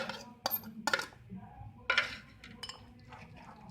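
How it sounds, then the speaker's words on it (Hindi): Eggs with chopped onion are beaten in a bowl for a spicy omelette, giving sparse, light clinks of utensil against the dish with faint scraping between them in a quiet room. "इसको अच्छी तरह हम फेंटेंगे।"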